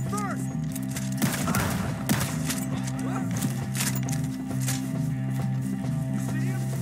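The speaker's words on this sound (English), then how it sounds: "Shoot the ones up there first!" Gunfire during a shootout in Red Dead Redemption 2, with scattered sharp shots and horse hooves and whinnies mixed under a steady game backdrop, while voices talk over the action.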